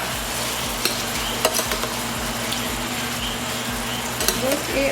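Garlic butter chicken cooks in a pan with a constant close sizzle and crackle of fat, punctuated by light scraping and tapping from stirring.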